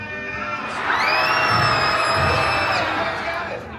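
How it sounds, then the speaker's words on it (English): A Monsters, Inc. Laugh Floor comedy show audience at Magic Kingdom throws up their hands and screams together, a loud sustained crowd roar of shrieks and whoops swelling for a few seconds before fading. "proper response is throw your hands in the air and scream like this."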